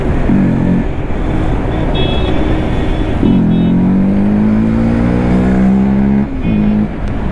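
A loud motorcycle engine, a Bajaj Pulsar NS200, roars and revs continuously, rising and falling in pitch with a brief dip near the end, close to the listener.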